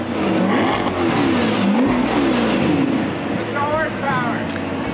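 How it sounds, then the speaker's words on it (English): The V8 engine of a new restyled Corvette C8 revs loudly close by, rising and falling in pitch with repeated throttle blips, while people talk over it. "And there it is in all its V8 glory, the brand new restyled Corvette."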